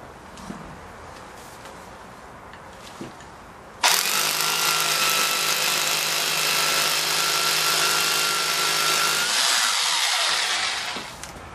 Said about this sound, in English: ready to drill the other two holes now